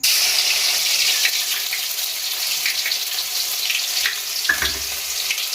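Loud, continuous sizzling of garlic paste frying in hot oil, a bright crackling hiss with a few soft clinks near the end.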